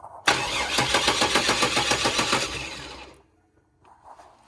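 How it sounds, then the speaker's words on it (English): A crew cab truck's starter cranks the engine with the fuel pump relay pulled, a loud, fast rhythmic churning for about three seconds that stops abruptly, followed by a faint quiet tail. "Starter was so loud I couldn't hear anything."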